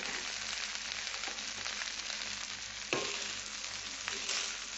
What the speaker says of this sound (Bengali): তারপরে এটা কষে নেব ভালো করে।